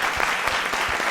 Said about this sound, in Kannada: ಅವ್ರಿಗೆ ಜೋರಾದ ಚಪ್ಪಾಳೆ ಬರಲಿ